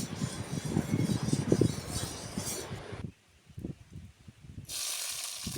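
Soya chunks sizzle and crackle as they fry in hot oil in a wok, with a loud dense hiss and scraping stirs at first, a brief near-silent lull, then the sizzling returns strongly.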